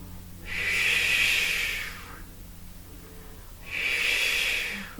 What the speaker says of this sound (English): Exhale and inhale.